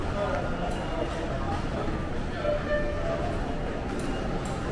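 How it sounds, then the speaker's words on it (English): A train at Ueno station in Tokyo rumbles steadily in a busy station setting, with distant clatter and faint announcements or voices over the low, continuous noise. "You can go to Narita Airport with this train."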